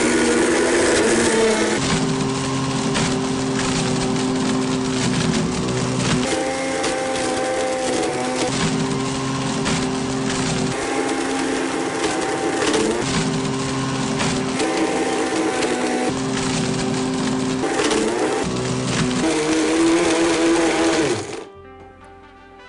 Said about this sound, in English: I knew I could get the iPad in a BlendTec Total Blender.